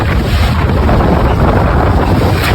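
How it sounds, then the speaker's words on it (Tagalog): Strong typhoon wind roars outdoors as a loud, constant rush and buffet battering the microphone, dense and unbroken throughout with no voices. "grabe ang lakas po ng hangin"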